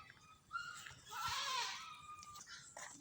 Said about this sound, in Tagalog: Ayun oh kambing.